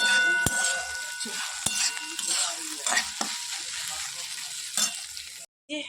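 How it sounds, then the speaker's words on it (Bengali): Okra (bhindi) frying in a pan, with a steady close hiss and crackle of oil, sharp clinks of a spatula against the metal as it is stirred, and a brief silence near the end. "চলো দেখি ভেন্ডি ভাজাটা কত দূর হয়েছে এই যে ভেন্ডি ভাজাটা প্রায় হয়ে এসছে আর একটু ভাজা হলে তারপরে নামিয়ে দেবো"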